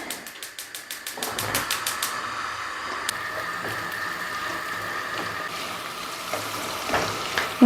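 Food fries in a pan with a steady crackling sizzle, preceded by a quick run of rhythmic clicks, close and fairly loud with occasional utensil knocks.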